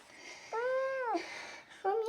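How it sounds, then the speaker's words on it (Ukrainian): A domestic cat meowing up close, two drawn-out wavering meows with a quiet pause between them, clear over a silent background. "Що ти постійно м'яукаєш?"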